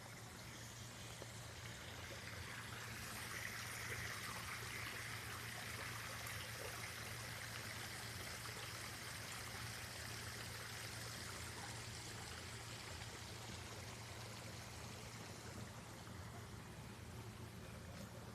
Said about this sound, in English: Oh, there's water.